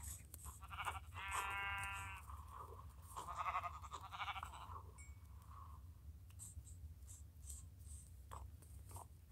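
A sheep bleats twice in the video game Wildcraft, a wavering drawn-out call followed by a shorter one, over a low steady rumble and faint clicks.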